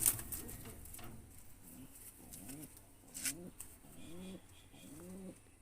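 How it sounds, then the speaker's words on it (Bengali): A home-kept breeding pair of Andhra pigeons coos close by, a series of soft, rolling, repeated coos spaced through the moment, with a sharp rustle or two in between. "এই হলো অন্ধ্রা পায়রা আমার ঘরের"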